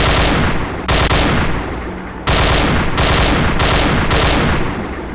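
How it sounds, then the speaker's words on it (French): Rapid bursts of gunfire in a VR battle royale video game, several loud volleys separated by short gaps, dense and close, with no talk. "Oh, ça tire, ça tire."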